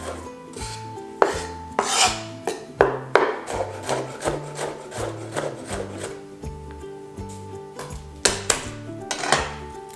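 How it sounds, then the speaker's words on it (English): Onion being diced finely with a knife on a wooden cutting board for a cheesy hashbrown casserole, a steady run of close, crisp chopping taps with a few louder strikes. "we want to really dice this nice and fine"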